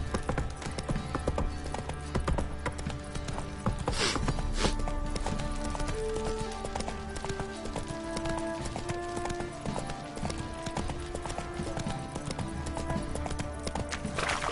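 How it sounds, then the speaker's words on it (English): Horses walking with a steady clip-clop of hooves, loud and continuous, and a brief whinny partway through, no talking. "Time to water the horses."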